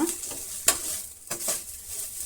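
Kadai paneer masala and red chilli powder fry in a pan, with a soft sizzle under two sharp stirring scrapes and clinks of a spoon against the pan, and no voices.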